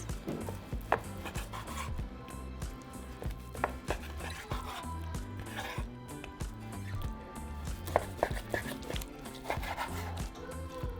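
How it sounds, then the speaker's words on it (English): A knife slices cooked carne asada into thin strips on a board, giving soft repeated cuts and damp squishy contact sounds close by, steady and fairly quiet with no talking. "now we're going to cut our meat and we're going to cut it into thin strips"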